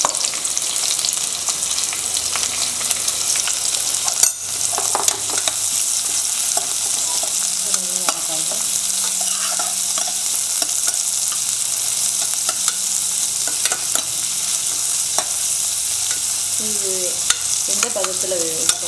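Onion and curry leaves sauté in hot oil with a steady, loud sizzle and scattered spatula scrapes against the pan, no voices, for the whole stretch.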